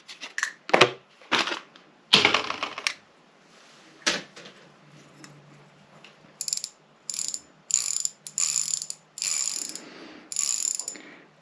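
A new bicycle freewheel ratchet ticks in a series of short, crisp clicking bursts after some handling clatter, close and clear with brief pauses between spins.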